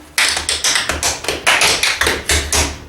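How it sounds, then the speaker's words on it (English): Tap shoes strike a floor in a small tap class, a quick run of close, crisp taps and heel thuds in uneven, lively rhythm, with no talking. "welcome to Charlie's little tap class"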